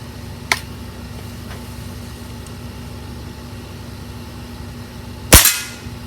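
A Diana RWS 48 .22 air rifle fires a single sharp, loud crack near the end, with a faint click earlier and a steady low hum in the background.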